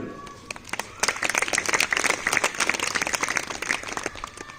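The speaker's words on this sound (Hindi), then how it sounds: "जोरदार तालियां इन बच्चों के लिए" Dense applause from a school audience for students winning a poetry and speech competition, building quickly and holding steady before tapering.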